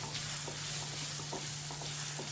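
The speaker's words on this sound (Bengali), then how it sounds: "কাঁচা আম কেটে 4-5 টুকরো কেটে এর ভিতরে একটুখানি ভেজে নিলাম" Raw mango pieces frying gently in a pan for sour lentil dal, a faint steady sizzle with a few light scraping stirs over a constant low hum.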